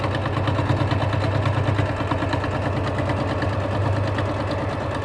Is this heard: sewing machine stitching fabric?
yes